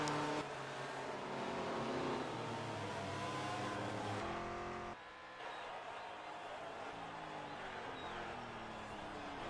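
IndyCar race engines from a 1978 USAC round at the Molson Diamond Indy, in a racing game: continuous loud, buzzing engine drone with shifting revs, a brief dip midway, heard alongside faint commentary.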